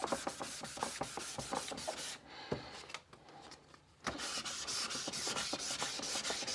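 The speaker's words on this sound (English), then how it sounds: "Back to sanding." Steady rhythmic scraping of sanding strokes on a car headlight, close and loud, pausing briefly in the middle before resuming at the same brisk pace.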